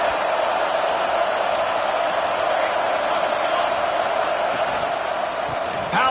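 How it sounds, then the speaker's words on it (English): A loud stadium crowd at a UNC versus UCLA football game, a steady, dense roar of many voices sustained without break from start to finish. "This crowd trying to make life miserable for this offense."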